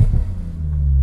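A Porsche 991 GT2 RS or GT3 RS engine rumbles low and steady at close range, a brief deep hum with no talk.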